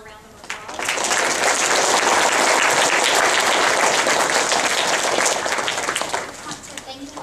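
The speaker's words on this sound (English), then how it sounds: "Let's give everybody one more round of applause" Applause at a school awards day swells in quickly after a brief voice, holds as full, steady clapping from a gathered crowd, then thins out near the end as talk resumes.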